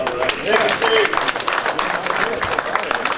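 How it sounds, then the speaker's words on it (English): An audience at a benefit auction applauds a completed sale. Brief, patchy clapping is mixed with crowd voices and talk. "Give me a round of applause."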